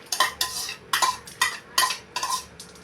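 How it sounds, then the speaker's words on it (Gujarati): Cut chilies going into a metal pot, with about six rhythmic scraping clinks of a utensil against the pot, close and crisp, with short pauses between strokes. "હવે આપણે આ કટિંગ કરેલા મરચાં છે તેને આપણે તપેલાની અંદર કરી દેવાના છે"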